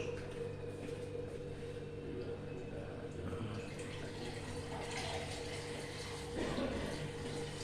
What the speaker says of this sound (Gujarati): હવે આમાં આપણે થોડું પહેલા પાણી નાખી દઈએ.